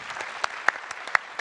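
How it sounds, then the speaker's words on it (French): Scattered, sparse handclaps from an audience at a business award ceremony, a few distinct sharp claps standing out over a faint room background. "je pense qu'on peut l'applaudir."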